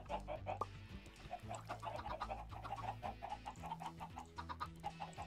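Chickens in the video game Sky Odyssey cluck in a steady run of short, soft calls, faint and repetitive over a low droning game soundtrack.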